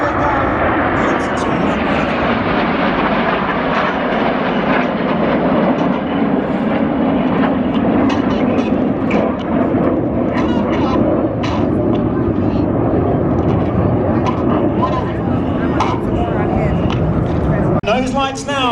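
RAF Red Arrows jets display over the 2019 New York Air Show, their engines a loud, continuous broadband roar that holds steady for the whole stretch with little change in level.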